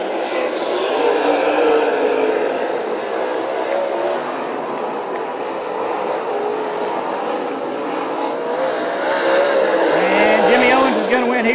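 Lucas Oil late model race cars roar around the Smoky Mountain Speedway dirt track during a heat race, a steady loud engine drone holding throughout and swelling near the end, with an announcer talking over it.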